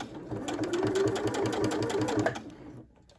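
A sewing machine stitching stretchy fabric for an XXL scrunchie, with the fabric dragging down into the machine: a fast, steady, rhythmic mechanical whir, close and alone, that stops abruptly near the end.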